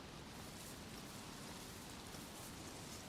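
Steady rain pours in DayZ, a dense even hiss of falling drops with no break or change throughout.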